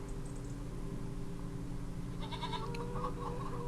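Homestead goats bleat against a steady, loud background hum. Short, wavering calls rise briefly, with faint farm sounds and no talking.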